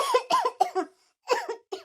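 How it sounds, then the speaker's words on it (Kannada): A character in an animated village story coughs in two quick clusters, several sharp, close hacking bursts separated by a short pause. "ಕೆಮ್ಮು ಕೆಮ್ಮು ಕೆಮ್ಮು ಕೆಮ್ಮೆ"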